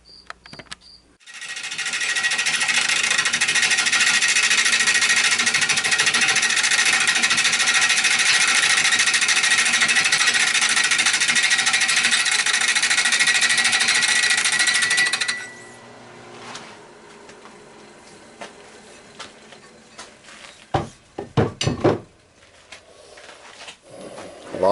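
A wood lathe turns a spalted maple blank with a loud, steady whirring and scraping roar for about fifteen seconds, then cuts off, leaving a few quiet clicks and knocks.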